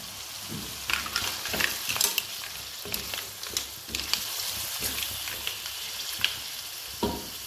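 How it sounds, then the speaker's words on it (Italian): Mussels sizzle in a hot pan, with a soft frying hiss broken by repeated clicks and scrapes from stirring. The sounds are close but fairly quiet, and no one speaks. "Ora aggiungiamo le cozze."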